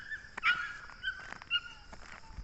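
A pet dog whimpering and whining in short high-pitched bursts, several soft cries spaced across a few seconds, fairly near with faint background noise.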